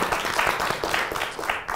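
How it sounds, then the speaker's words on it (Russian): Studio audience at a Russian talk show on television versus YouTube breaks into steady, enthusiastic applause, a dense continuous clatter of many hands filling the room with voices faintly underneath. "Бурные аплодисменты."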